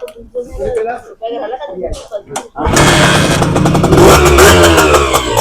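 A used Honda CD motorcycle engine starts up and settles into a loud, steady idle close by, with a person talking before it fires and over its running.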